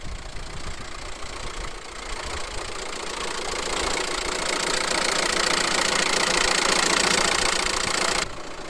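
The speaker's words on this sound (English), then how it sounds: "We've got the T5 started up just off the booster pack." A VW T5 Transporter van engine idles after a jump start from a booster pack, following an engine swap, a steady close mechanical rumble with slight knocking that rises a little in loudness before cutting off near the end.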